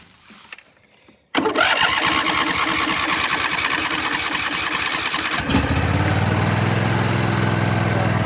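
An old riding lawn mower engine cranks and catches after a quiet start, then runs loud and steady with a deepening idle toward the end.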